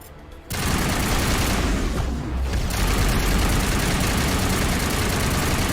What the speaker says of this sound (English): Stop shooting me and shoot at everybody else.